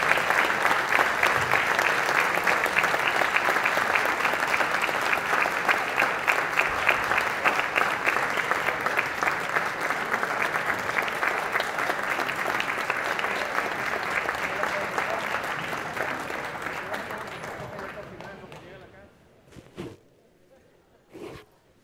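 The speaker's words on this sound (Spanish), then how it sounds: "queremos despedir con un aplauso a la representación de la Embajada de la Federación de Rusia" Sustained audience applause for a visiting Russian embassy delegation at a formal session, a dense wash of clapping that continues steadily for most of the time and then fades out, with a couple of isolated claps at the end.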